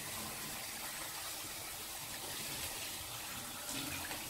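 Water runs steadily from a tap, washing ingredients for traditional puff puff in a home kitchen; a constant, fairly faint gushing hiss with no talk.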